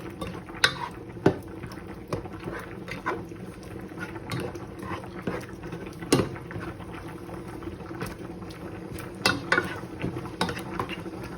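Parsley being stirred into chicken and pasta frying in a pan: a steady sizzle and patter of hot oil with scattered clinks and scrapes of a utensil against the pan, close and continuous.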